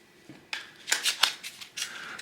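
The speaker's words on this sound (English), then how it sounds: "Kind of a small deck, kind of hard to shuffle." A small deck of playing cards being shuffled nearby, a quick run of crisp riffling flicks and soft card slaps following one faint tap, with no talking.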